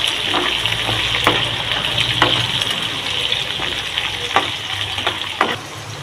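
Chana dal, urad dal, mustard seeds, cumin and onion fry in a pan for masala rice, giving a continuous close crackling sizzle with scattered sharp pops and spatters and no talk.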